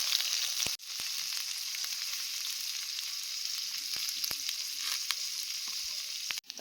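Cut potatoes and slit green chilies frying in a pan, a soft, steady hissing sizzle that runs throughout with a few faint clicks and knocks, for a fish curry.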